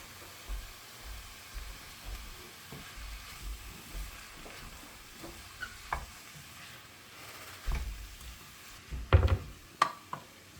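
Spinach fries in a pan for Surati-style vegetable ghotalo, a quiet, steady sizzle with scattered spoon taps and stirring scrapes, growing busier toward the end.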